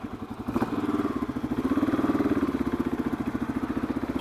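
A Kawasaki KLR 685 dual-sport motorcycle being ridden, its single-cylinder engine thumping steadily and up close at cruising speed, with a faint rise in pitch partway through.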